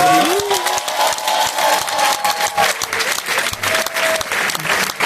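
Steady applause from a crowd at a film pilot's preview screening on the Champs-Élysées, Paris, fills the whole stretch, dense clapping with a few faint tonal sounds drifting over it.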